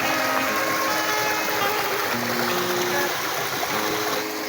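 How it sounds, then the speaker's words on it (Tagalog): River water flowing steadily outdoors, a continuous rushing and trickling wash with no break, moderately loud and close, no speech. "Dito tayo sa ilog. Yan. Ito yung ilog."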